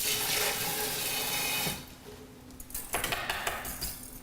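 A whisk is rinsed under a running kitchen tap, with a loud steady stream of water that cuts off partway through, followed by light clinks and handling sounds at a sink.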